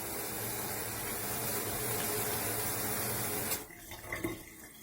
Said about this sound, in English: You can turn the water on the faucet.